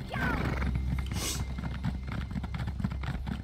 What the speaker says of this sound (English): As I get on my horse again.